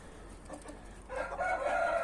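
A rooster crows at a backyard poultry yard in the afternoon, the call swelling loud and close in the second half after quieter clucking and farmyard background.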